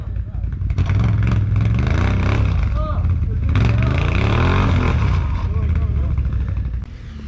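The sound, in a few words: ATV engine revving on a winter trail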